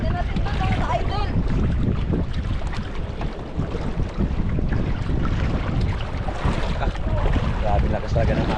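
Strong wind roars and buffets the microphone without a break, a dense rushing noise that stays loud throughout, with voices faintly underneath.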